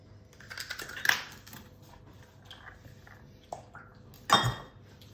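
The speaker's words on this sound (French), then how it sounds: "Donc maintenant, on va casser les œufs un par un. On va les ajouter." Eggs are cracked one at a time against a bowl and added for a light chocolate cake batter, giving two sharp taps with a brief clatter between them over a quiet kitchen background.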